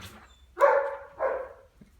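A dog gives two short barks just outside a back door, the second slightly softer, over a faint low hum.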